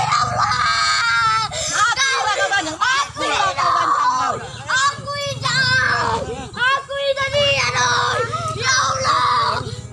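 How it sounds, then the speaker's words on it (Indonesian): A child screams and wails in distress, loud and sustained through the whole stretch, with overlapping high cries and moans and other voices mixed in. "Korban berteriak meminta ampun dan menangis agar tidak dianiaya."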